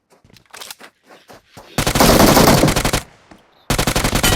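Automatic gunfire in the PUBG video game: scattered short shots at first, then a loud sustained machine-gun burst, a short pause, and another rapid burst.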